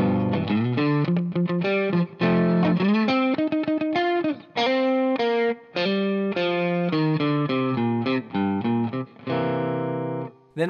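Electric guitar plays the last four bars of a blues riff, with distorted, effects-laden tone, quick rhythmic note runs and short pauses.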